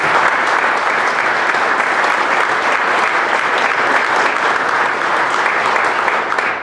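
An audience at a city address gives office support staff a steady, full round of applause, dense and even throughout with no pauses.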